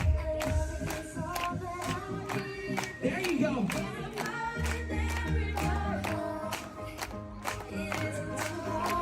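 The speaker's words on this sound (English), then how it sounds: "come on, clap it to the beat of the music" An outdoor Disney park crowd on Main Street clapping along in time with loud rhythmic music, sharp regular claps landing on each beat over bass and melody, with a brief voice in the middle.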